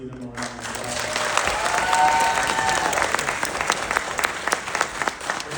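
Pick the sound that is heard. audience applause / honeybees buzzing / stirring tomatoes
audience applause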